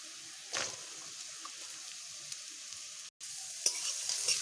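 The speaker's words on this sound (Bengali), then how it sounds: "আলুগুলো দিয়ে একটু বেশ ভালোভাবে আমি এভাবে ভেজে নেব" Soft, steady sizzling of potatoes frying in a pan, with a few brief stirring scrapes and clinks, close by and fairly quiet.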